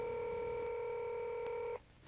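A steady dual-tone DTMF dialing beep from a Motorola DynaTAC cellular phone, one continuous clean tone lasting nearly two seconds, then stopping into quiet hiss.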